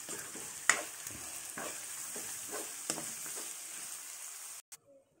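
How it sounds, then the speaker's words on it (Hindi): Three medium finely chopped onions sauté for red sauce pasta, giving a moderate steady sizzle with several scraping stirs and a sharp tap. The sound cuts off abruptly near the end, followed by a few faint knocks. "3 मीडियम साइज के प्याज हैं, बारीक कटे हुए हैं, और इसको सौते कर लेंगे"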